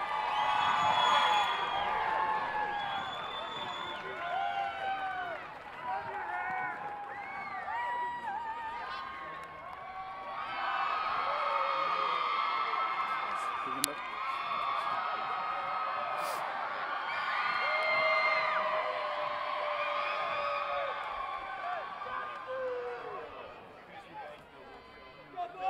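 Crowd at a BYU versus Utah Valley University rugby game cheering and whooping loudly for about 26 seconds, with applause and shouts rising and falling continuously and voices mixed throughout.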